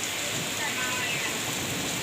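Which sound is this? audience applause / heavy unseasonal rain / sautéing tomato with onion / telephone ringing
heavy unseasonal rain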